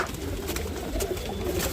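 Pigeons in a coop, a newly paired couple among red-marked birds, give low soft coos that run steadily throughout, close by and moderately loud over a faint background hum.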